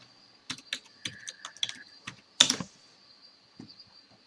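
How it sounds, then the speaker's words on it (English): Typing on a computer keyboard: a close, irregular burst of key clicks followed by a louder cluster of strokes, then a few scattered taps as the typing trails off over a faint steady hum. "Let me just type it in here."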